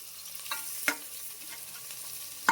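Chopped onions fry in hot oil for a crab curry, a soft steady sizzle broken by a few sharp scrapes of stirring.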